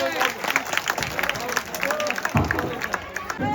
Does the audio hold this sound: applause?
yes